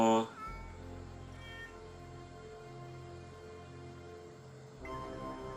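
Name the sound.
cat meowing in a TMNT cartoon episode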